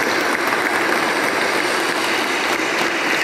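A church congregation gives a loud, sustained round of applause to welcome confirmation candidates, steady dense clapping filling the space with no talk over it.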